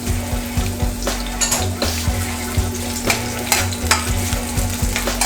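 Chopped onion frying in hot oil in a pan for Jamaican seasoned rice, a steady close sizzle broken by repeated scraping and clanking stirs of a utensil against the pan, no voices.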